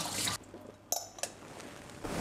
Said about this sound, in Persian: بعد از اون آب کش کنید.